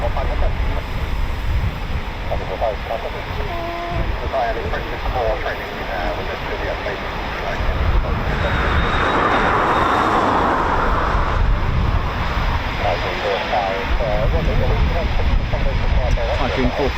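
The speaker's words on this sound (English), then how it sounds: "Typhoon 45 heading back as well." A Eurofighter Typhoon FGR4 jet flies near an RAF station, a loud, broad continuous roar that swells in the middle and holds throughout, with voices talking over it.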